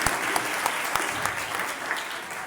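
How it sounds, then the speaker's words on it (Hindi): Applause from a church congregation honouring Jesus Christ, a steady wash of many hands clapping with a few sharper claps standing out, moderately loud throughout. "जोरदार तालियां बजाएंगे यीशु मसीह को"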